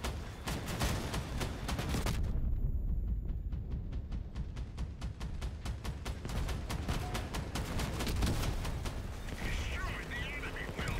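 Rapid, steady bursts of heavy automatic cannon fire from the vehicle combat game Crossout, close and loud, pounding continuously through the whole stretch with only brief gaps.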